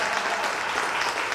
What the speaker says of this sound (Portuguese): Salva de palmas pra moça empoderada